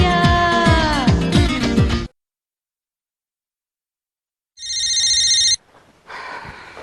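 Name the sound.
telephone ringing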